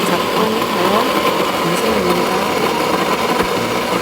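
An electric chopper grinds chopped pear and bellflower root, a loud steady high-pitched motor whine with a churning rattle, running continuously and close throughout.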